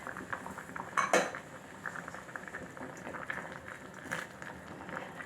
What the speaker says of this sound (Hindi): तो हम लिड को हटाते हैं।